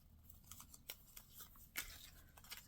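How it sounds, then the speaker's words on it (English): Scissors snip the tip off a piece of folded paper for a paper peony flower, giving a few quiet, close, separate cuts and rustles with no talking. "And then you're going to cut the tip off."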